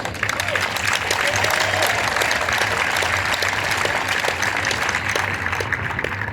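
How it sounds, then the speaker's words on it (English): Spectators at a Tunnel to Towers 5K run and walk in downtown Columbia, South Carolina, clap steadily outdoors, giving a continuous, fairly loud round of applause with a low hum underneath. "Let me give him rounds of applause."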